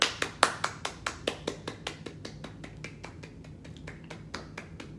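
Hand clapping, a steady series of about twenty sharp claps in even rhythm, close and moderately loud, slowing slightly toward the end.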